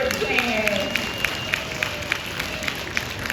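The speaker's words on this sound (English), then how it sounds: "Can we get a big round of applause for our awesome bird trainers?" Audience applause and cheering for bird trainers at a zoo bird show, a steady crowd of clapping hands held at moderate level for a few seconds, with a voice briefly audible over it.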